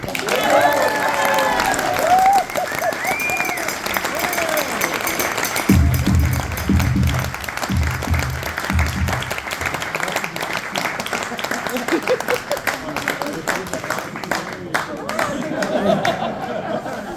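Applause for a diocesan merit medal recipient builds into a loose patter of clapping mixed with crowd chatter and light laughter, with voices talking over it and a burst of low rumble midway.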